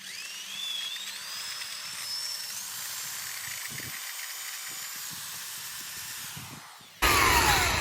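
A high-pitched whining power drill runs steadily into an aluminum pool fence railing, its pitch rising as it spins up, then a sudden louder burst of harsh noise at the end.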